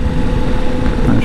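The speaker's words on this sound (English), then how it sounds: "Nice strong motor." Steady low rumble of a 2023 KTM 1290 Super Adventure S motorcycle engine under way on a test ride, loud and continuous with wind noise and someone talking over it.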